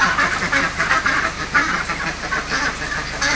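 A flock of Cherry Valley Pekin ducks quacks in a dense, continuous chorus, with rapid overlapping calls rising and falling close by and no voices.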